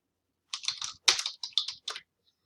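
Quick bursts of keystrokes on a computer keyboard, a short run followed by several clustered clicks, close and clear against near silence.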